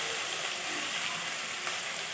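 Chillies dropped into hot oil in a frying pan with tomatoes for Bengali matar ghugni, a steady close, dense sizzle and crackle running continuously without pause.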